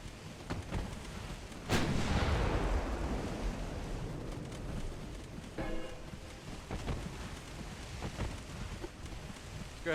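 A battleship's 13-inch guns fire in the naval combat game Ultimate Admiral Dreadnoughts: one heavy boom with a long rumbling decay, followed by fainter distant thuds over a windy, sea-like background.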